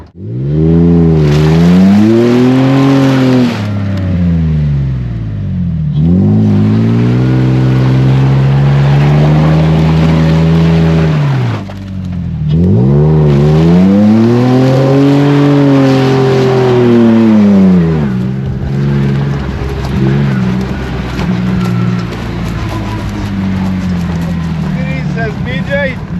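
A car engine revs up and down in long sweeping surges, loud and close, with pitch rising and falling in three or four broad arcs before settling into a rougher idle-like drone.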